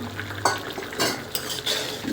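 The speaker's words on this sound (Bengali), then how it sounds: "2-1 মিনিট নাড়াচাড়া দিয়ে নামাই নেব" Egg and eggplant curry frying in a pan, stirred with a few quick scraping strokes of a utensil over a soft sizzle, close and fairly quiet.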